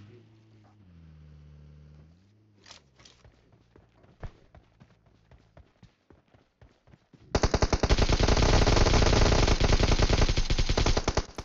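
Gunfire in the video game PUBG Mobile starts as scattered single shots over a droning vehicle engine, then becomes a loud, sustained rapid burst of automatic fire.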